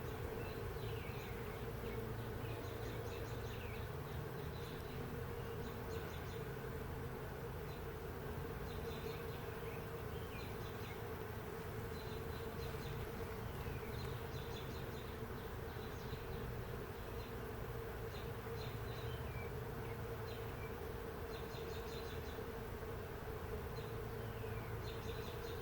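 Honeybees hum in a continuous, faint, even drone at a hive during an inspection, with individual bees buzzing slightly nearer now and then over the steady background.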